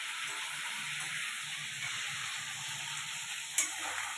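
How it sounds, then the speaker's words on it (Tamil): Steady oil sizzling and crackling from anchovies frying in medium-hot oil, a constant bright hiss with a low bubbling undertone and one sharp pop near the end. "மீடியமான ஆயில் ஊற்றி பொரிச்சு எடுத்தாச்சு"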